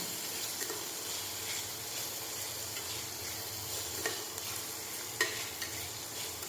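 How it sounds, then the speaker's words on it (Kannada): Chopped tomato being stirred into an egg fry in a hot pan, with a steady soft sizzle and a few scraping utensil clicks, no talking. "ಒಂದು ಟೊಮ್ಯಾಟೊನ ಕಟ್ ಮಾಡಿ ಇಟ್ಕೊಂಡಿದ್ದೀನಿ, ಅದನ್ನು ಕೂಡ ಈಗ ಆ್ಯಡ್ ಮಾಡ್ಕೊತಾ ಇದ್ದೀನಿ. ಈಗ ಇದನ್ನು ಕೂಡ ಚೆನ್ನಾಗಿ ಮಿಕ್ಸ್ ಮಾಡ್ಕೋಬೇಕು."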